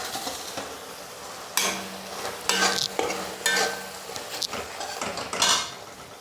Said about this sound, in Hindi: तो फ्लेम को बंद कर देंगे और चावल को छान लेंगे।